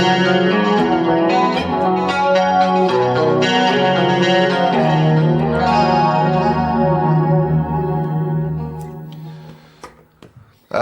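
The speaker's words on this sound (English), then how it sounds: "I've got the chorus pedal and the chorus setting just there, so I've got a nice generic chorus sound." An electric guitar plays a sustained chordal phrase through the chorus effect of a Roland Boss GT-8, shimmering and wide, loud and alone, before fading into a few scattered picked notes.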